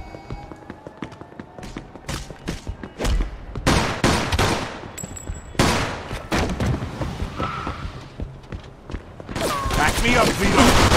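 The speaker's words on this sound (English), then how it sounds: "Stop shooting that fucking thing!" Rapid gunfire in Mafia 2 crackles through a chaotic shootout, bursts of shots and machine-gun fire coming in uneven clusters, loud and close, with footsteps and game noise between volleys.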